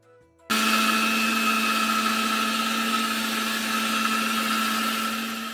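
A kitchen mixer grinder starts after a brief quiet moment and then runs at full speed, blending garlic, whole cumin, onion and chilli into a paste. It gives a loud, steady motor whine up close, with no talking.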